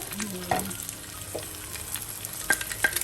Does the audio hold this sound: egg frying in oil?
yes